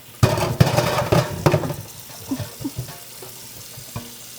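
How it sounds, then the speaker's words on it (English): Boiled beets poured from a pot into a colander, with a close splashing, clattering burst over the first second and a half, then scattered drips and small knocks fading to quiet. "Pour the remaining beets out."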